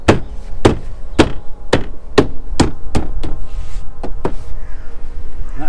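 Loud, sharp smacks as an Audi door trim panel is pushed and struck into place on the door, about nine hits in quick, fairly even succession before quieter workshop noise.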